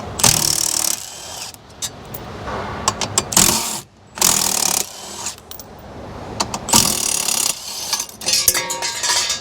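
A ratchet works threadlocked bolts out of the dash of a new 2023 Ford Tremor truck, giving bursts of close clicking and metallic rattling that alternate with brief quiet gaps and clinks of tools.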